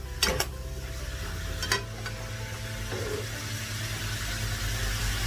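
Food stir-fried in a pan inside a food truck, a low steady rumble of cooking and equipment noise with two sharp scraping clatters near the start, no voices.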